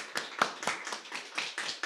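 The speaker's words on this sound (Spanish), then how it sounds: "entonces le damos otro aplauso a Juan Pablo." Applause at the end of a seminar talk on superconductivity in topological materials, a few sparse, separate claps from a small group, fairly faint and brief.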